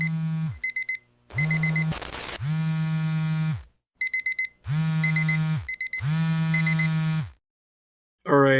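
Alarm clock buzzer used as a podcast segment bumper: loud, harsh electronic buzzing in repeated long bursts, several shorter stuttering pulses between them, with a brief noise burst and a gap near the end; no one speaks.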